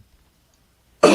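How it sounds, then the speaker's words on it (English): A single sharp cough bursts out close to the microphone at the very end, after near-silence, in a sports talk-show setting. "I had to cough when that came out."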